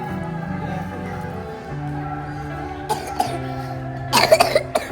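A few short coughs break out near the end over a low, steady hum of background noise.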